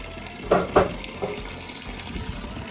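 Water being poured into storage containers at an off-grid desert home, a soft steady trickle with a few louder splashy pours near the start, close and fairly quiet.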